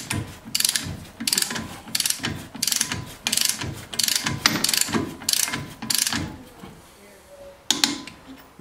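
A ratchet snugs the front brake bolts on a Jeep Grand Cherokee WK, with close, crisp clicking bursts in a quick, regular rhythm of repeated strokes that slow and pause near the end.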